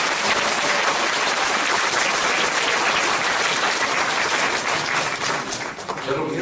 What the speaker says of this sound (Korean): 큰 박수 다시 한번 부탁드립니다.